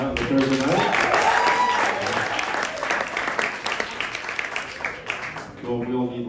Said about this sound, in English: Give yourself a round of applause for being out on the Thursday night.